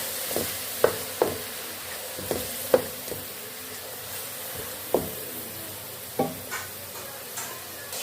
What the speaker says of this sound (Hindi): और इसको हम फ्राई करेंगे।